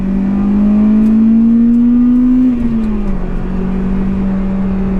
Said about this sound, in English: I can't believe how loud i-vtec pops